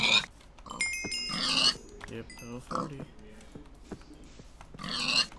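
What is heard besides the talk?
pigs grunting in the video game Minecraft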